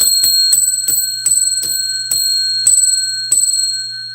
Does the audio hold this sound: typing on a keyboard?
no